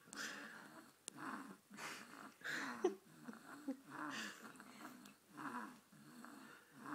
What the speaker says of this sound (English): Baby snoring her head off.